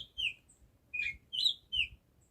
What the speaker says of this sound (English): And what you're hearing is a lovely little bird